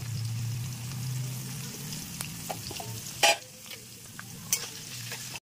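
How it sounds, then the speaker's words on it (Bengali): Steady crackling sizzle of diced potatoes frying with salt and turmeric in a wok, with a few sharp clinks of a utensil stirring partway through. "এই কড়াইতে আমি আলু ডুমো ডুমো করে কেটে নিয়েছি"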